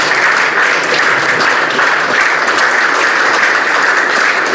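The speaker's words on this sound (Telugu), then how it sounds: "క్లాప్స్ కొట్టేదే" Audience of company employees clapping at a health and motivational workshop in Visakhapatnam, a dense, loud, sustained round of applause with no talk over it.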